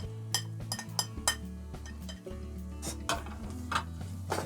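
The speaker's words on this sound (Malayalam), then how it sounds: "ഉലുവാപ്പൊടി ഇട്ട് നന്നായിട്ടൊന്ന് ഇളക്കാം." Spices and fenugreek powder are stirred into a pan of cooking curry for apple pulissery, a spoon scraping and clinking against the metal in a steady rhythm over a low sizzle.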